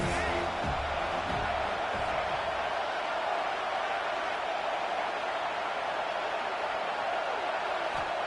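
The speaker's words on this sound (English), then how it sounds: "This crowd trying to make life miserable for this offense." A loud, steady roar from the stadium crowd at a college football game against USC, dense and continuous throughout, with a commentator's voice over it.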